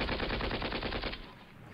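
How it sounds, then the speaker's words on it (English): Machine gun fire in the video game Panzer Battles North Africa 1941, a rapid continuous burst of rattling shots that tapers off near the end, loud and alone. "Maybe we can kill some of them with machine guns."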